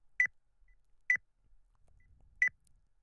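A smartphone rings inside the Hatsukoi visual novel as three short, clean electronic beeps, evenly spaced apart and faint against near silence.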